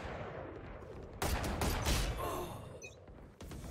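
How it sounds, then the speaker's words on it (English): Gunfire in the shooter game Valorant comes as a burst of loud, rapid shots in the middle of the stretch. It is followed by quieter clatter and a faint background hum. "when like lots of gunshots are going off"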